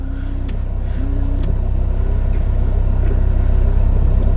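A non-turbo five-cylinder diesel engine idles in an Audi 100 C3 Avant, giving a steady low rumble with a faint warble, heard from inside the car alongside soft clicks.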